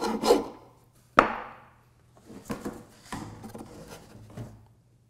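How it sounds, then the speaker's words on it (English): A hand rasp filing wood on a benchtop router table part to fit a hose snugly, with close rough scraping strokes in uneven bursts, two sharper opening rasps followed by lighter repeated passes. "I'm going to use a rasp and sneak up on it so that the hose has a nice snug fit"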